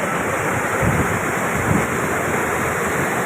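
Fast mountain stream water rushing hard near Naran Kaghan, a loud, steady roar of water close by with no voices.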